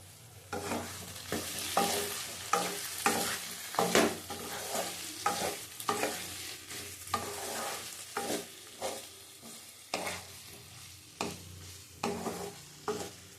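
Spiced potatoes frying in a pan are stirred with a utensil, giving regular scraping strokes about once a second over a soft continuous sizzle, close and without talk.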